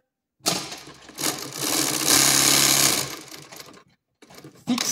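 An overlock serger stitches a basic pants facing, its motor running up in quick bursts and then a sustained loud run, close by with no voices.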